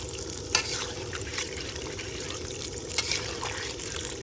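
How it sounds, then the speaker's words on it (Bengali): Cauliflower and potato curry frying in a pan as water goes in, giving a steady loud sizzle with stirring scrapes and a couple of sharp knocks, no talking. "হ্যাঁ জল দিয়ে দাও।"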